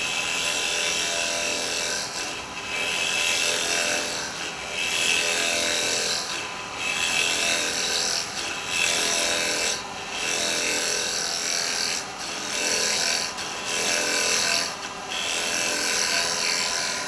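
Wet wood spinning on a wood lathe while a miniature cowboy hat is turned, a steady close whirring hiss with repeated short dips as the cutting tool lifts off and returns to the workpiece.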